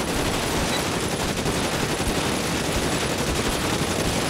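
Rapid, sustained gunfire from a street crime shootout in the video game LA Noire, a dense unbroken barrage of shots at steady loudness throughout.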